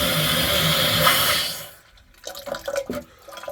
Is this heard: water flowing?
yes